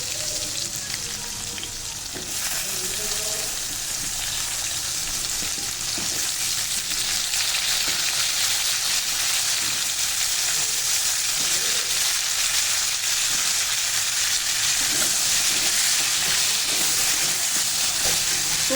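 Pumpkin and potato pieces hit hot oil with tempered spices in a pan, launching into a loud, continuous close sizzle that holds steady throughout, with no speech.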